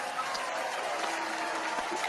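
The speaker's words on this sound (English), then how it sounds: "They're clapping." Applause from a comedy audience, steady dense clapping filling the whole stretch at moderate level with no pause or clear individual claps.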